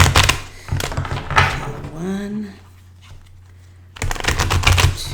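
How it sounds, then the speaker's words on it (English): Angel Healing House tarot cards shuffled, rapid riffling flutters in two bursts at the start and end, close and crisp, with a voice talking in the quieter middle. "I'm using my deck, which is the Angel Healing House tarot deck"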